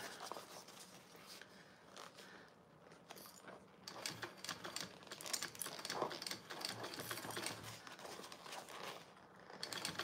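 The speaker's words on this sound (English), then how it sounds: "I'm gonna do it at a quarter inch seam allowance." Sewing machine stitching a quarter inch seam on a bag, a steady fast mechanical chatter with small variations in speed, close and fairly quiet, with no talk.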